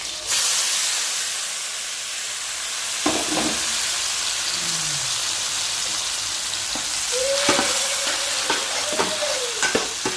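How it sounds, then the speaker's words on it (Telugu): Onions and green chillies fry in hot oil with a strong, continuous close-up sizzle and hiss, broken by a few stirring clatters and faint tonal squeaks near the end. "అదే ఆయిల్లోనే మొత్తం ఉల్లిపాయ పచ్చిమిర్చి అన్నీ వేసేసుకొని బాగా ఫ్రై చేసేసుకున్నాం"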